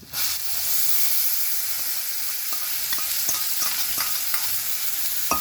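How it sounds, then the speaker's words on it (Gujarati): Turmeric hits hot oil in a pan with curry leaves, giving a loud steady sizzle and hiss with scattered clicks of stirring throughout, and no voices. "કલર આવે એ માટે હું અત્યારે તેલમાં જ હળદર નાખી દઉં એક ચમચી"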